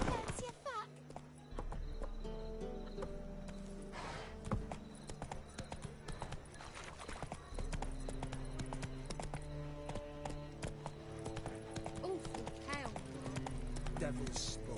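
A horse gallops in The Witcher 3: Wild Hunt, its hooves beating a steady, rhythmic clip-clop over a musical score, with a voice speaking briefly.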